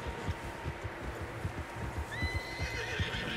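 Horses whinny over a bed of hoofbeats and a low rumbling ambience, a high neigh rising near the end, in the video game Red Dead Redemption 2; no one speaks.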